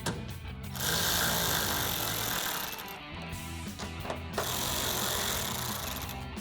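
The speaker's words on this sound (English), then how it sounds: "we'll take a 10mm socket to tighten these down" A 10mm socket on a ratchet drives bolts into the plastic housing of a chrome LED-bar headlight on a 2012-2015 Toyota Tacoma, making a continuous close whirring, clicking buzz with brief pauses.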